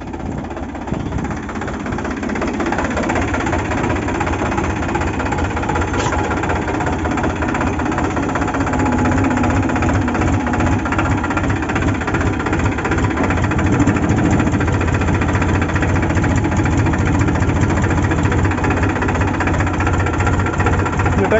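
A heavy diesel tractor engine with a harrow attached runs loudly and steadily up close, a continuous knocking rumble that holds for the whole stretch.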